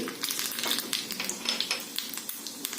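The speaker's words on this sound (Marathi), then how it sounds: "तेल छानसं तापलेलं आहे त्यामध्ये जिरे" Cumin seeds sizzling in hot oil in a small pan for a garlic tadka, a steady close crackle with rapid little pops spread evenly throughout.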